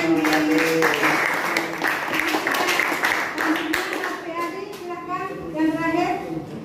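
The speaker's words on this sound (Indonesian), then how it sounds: "Oke, kasih aplaus." A classroom of students claps in a steady patter of applause that fades out partway through, with children's voices and talking mixed in throughout.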